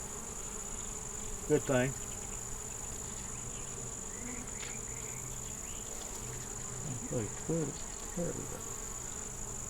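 Honeybees drone steadily around an open hive during an inspection, with a constant high buzz throughout and a few brief spoken words over it.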